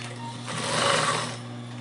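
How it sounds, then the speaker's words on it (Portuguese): A home sewing machine turned slowly by hand at the handwheel while stitching a fabric toiletry bag gives a steady, soft mechanical whir that swells in the middle and eases off, with no talking. "eu estou girando o volante da minha máquina com a mão"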